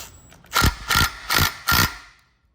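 A blade nut on a Stihl or Echo edger is tightened, with four loud, evenly spaced ratcheting bursts close up, followed by quiet.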